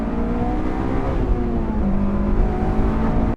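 Tire and road roar from a Honda S2000 AP2 sports car in motion, with engine drone beneath it: a steady, loud, continuous rumble that holds for about three seconds and then cuts off abruptly.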